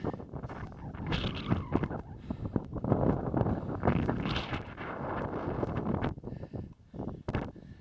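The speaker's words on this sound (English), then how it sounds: "the wind is always whipping up here" Strong gusts buffet the microphone on the summit of Burnt Mountain, a loud, rough, uneven roar that rises and falls in waves and briefly drops away near the end.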